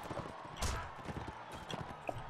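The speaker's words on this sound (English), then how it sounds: "I'm on a horse." Horse hooves clip-clop in the Mount & Blade: Warband game, a quick irregular patter of thuds over a busy background of battlefield noise, moderately faint and without speech.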